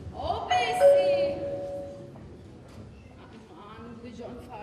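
A doorbell chimes a short ding-dong in a home during a comedy sketch, the tones fairly clear at the start and then fading into a murmur of background voices and room noise.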